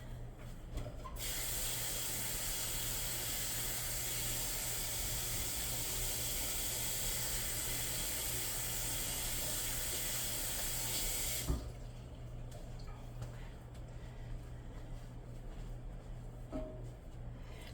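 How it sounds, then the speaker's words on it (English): A kitchen sink tap runs steadily while hands are washed beneath it, a close, continuous hiss of water lasting about ten seconds before it shuts off, leaving faint room noise. "let me wash my hands"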